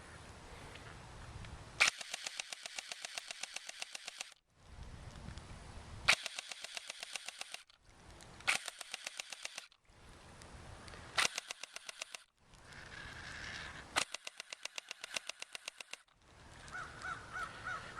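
An AK-47 style gel blaster fires outdoors by a lake in several long bursts of rapid mechanical clicking and whirring, each burst lasting one to two seconds with brief pauses between.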